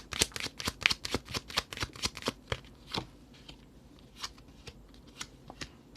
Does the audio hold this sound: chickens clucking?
no